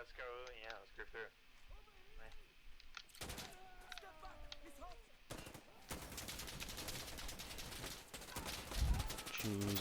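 Gunfire in the video game Insurgency: Sandstorm, with bursts of automatic and single shots building into heavy, sustained shooting toward the end, mixed with a voice talking over the game sounds.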